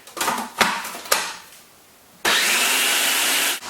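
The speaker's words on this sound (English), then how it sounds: "I'll add the rest of the oil and blend it again" A blender whirs through carob cream with oil: a few short pulses come first, then after a pause the motor kicks into a steady, loud, high whir that runs for more than a second before it cuts off.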